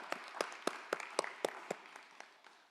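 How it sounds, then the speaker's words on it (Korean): A church congregation at a Thursday worship service claps in a few sharp, distinct bursts, a loose rhythm of separate hand claps that thins out and fades toward the end. "영광의 박수를 올려드리겠습니다."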